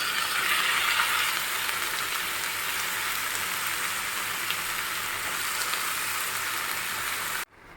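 Chicken frying with onions and spices in a pan, a loud, steady, close sizzle that runs unbroken until a sudden drop near the end.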